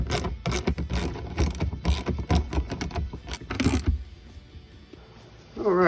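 A wrench tightens fog light bolts on a Jeep Compass, making a run of quick, close clicking ratchet bursts for about four seconds, followed by a quieter pause and a brief louder noise at the end.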